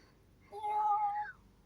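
A kitten gives a single short meow that rises and then falls, close and moderately loud against a quiet background.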